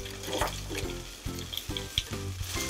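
Shrimp fry in a pan over medium-high heat for a garlic tomato prawn pasta, giving a steady close sizzle with a few sharper pops and low clanks from stirring or tossing.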